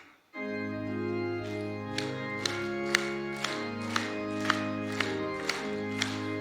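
A church congregation at a Korean Wednesday evening service claps in steady, regular beats along with an organ or keyboard playing hymn 323. The claps are sharp and evenly spaced over the sustained chords.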